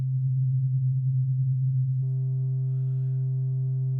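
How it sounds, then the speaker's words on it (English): A modular synth oscillator holds a steady low sine tone, then flips into analog mode, and the pure hum gains faint added harmonics that continue as a sustained, even drone. "if I switch to analog mode, the oscillator will attempt a little harder to mimic what you would get from an actual analog oscillator"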